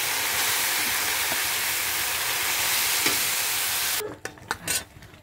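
Khichdi of dal and rice with ginger, cumin and chilli powder tipped into a hot pot, giving a loud, steady hissing sizzle that stops abruptly, followed by a few scattered clanks and stirring knocks.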